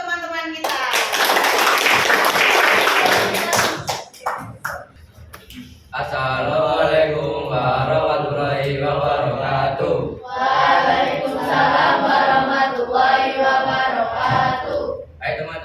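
Indonesian eighth-grade classroom applause after a correct answer: a burst of clapping from many hands for about four seconds, followed by a teacher talking over a lively room.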